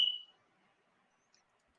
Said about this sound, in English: There's another beep. Oh wait, it's your damn fire alarm.